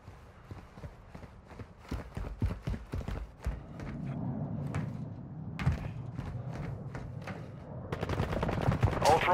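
Gunfire in a first-person video game shooter, a series of sharp, irregular shots and short bursts with a rapid volley toward the end, over a low background rumble.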